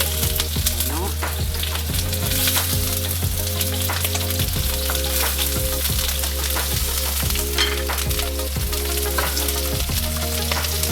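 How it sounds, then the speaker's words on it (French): Vegetables tipped into a hot wok with chicken sizzle loudly and steadily, with scraping and stirring clatter across the frying hiss, close up and continuous with no talk. "Je vais mettre progressivement les légumes."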